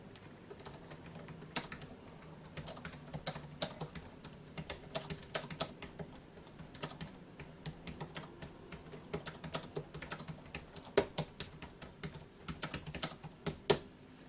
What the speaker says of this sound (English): now typing with the keyboard at a raised angle feels a lot more comfortable for me